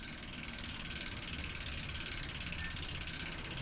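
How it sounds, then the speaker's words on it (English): A vintage Schwinn Suburban bicycle wheel spins freely, its freewheel giving a steady, fast, even ratcheting click, close by and fairly quiet, with no voices. "I think I got the wheel back on. Spins pretty good."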